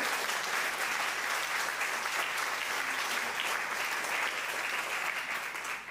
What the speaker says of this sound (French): peut-être qu'on peut applaudir les intervenants